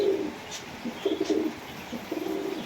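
A Shahjahanpuri bhura pigeon coos in soft, low, repeated calls at moderate distance, with several rounds of cooing over a quiet background.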